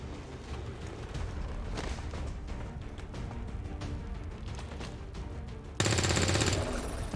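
Dense, rapid gunfire in the video game XCOM 2: War of the Chosen, a sustained burst of loud shots that ends in a sharp, louder blast.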